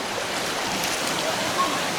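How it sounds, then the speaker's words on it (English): A waterfall roars in the outdoors near a paddling spot, a continuous broad rushing wash of water that holds steady throughout at moderate loudness. "We're at the waterfall place."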